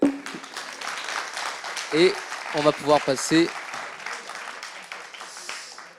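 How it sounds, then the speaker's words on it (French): Scattered applause from participants in a machine-learning training session, light and fairly distant clapping running under a voice. "On applaudit s'il vous plaît."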